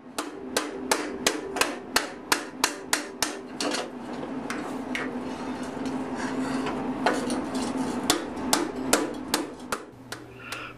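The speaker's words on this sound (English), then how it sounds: "I'll start heating and hammering one section at a time while it's hot." A blacksmith hammers a hot metal ladle bowl at the forge: rapid, evenly spaced ringing hammer blows in bursts at the start and end, with a quieter stretch of scattered taps and steady background hum between them.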